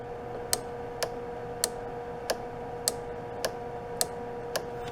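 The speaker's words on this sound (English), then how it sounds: "This relay, when you put it in, it clicks." A Range Rover P38 HVAC blower relay clicks eight times in a sharp, evenly spaced rhythm over a low steady hum, heard close up in a quiet space.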